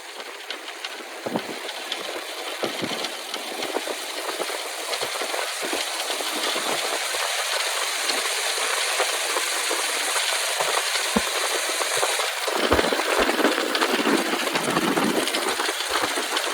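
The engine of a 1910 Hupmobile runs steadily with a busy mechanical clatter, heard close up under heavy wind noise that rumbles throughout.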